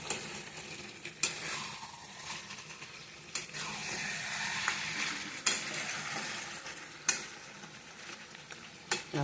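Whole new potatoes sizzle and fry in a pan, a steady crackle punctuated by several sharp scrapes and clinks as they are stirred.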